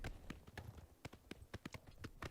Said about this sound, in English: Alright, so we got a horse.